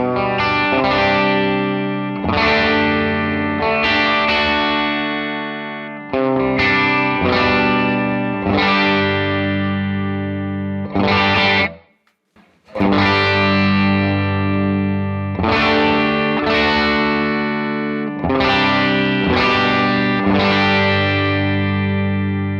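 Electric guitar with its pickups lowered well away from the strings plays loud, distorted strummed chords in a rhythmic pattern, with a brief pause in the middle before the strumming resumes.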